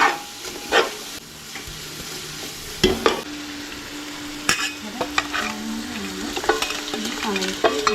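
Ginger, garlic and green chili are sautéed in a hot pan, giving a bright sizzle broken by clattering spoon strokes and scraping stirs, loud and close, with no talking.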